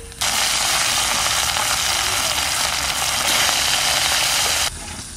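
Fish frying in hot oil, a loud, steady, dense sizzle that holds evenly for several seconds and then drops off abruptly near the end, with no voices.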